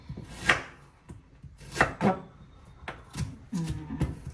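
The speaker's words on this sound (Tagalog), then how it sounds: "hiwain natin siya as nibbles and good for biteable size" A knife slices a peach into bite-size pieces on a board, producing about six close, crisp cuts at an irregular pace, some in quick pairs, with no speech.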